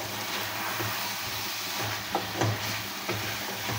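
Winter vegetables sautéing in a pan for a hilsa fish curry with pumpkin bori in a village kitchen, a steady close sizzle broken by a few soft stirring scrapes, with no talking.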